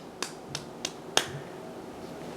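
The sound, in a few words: hands clapping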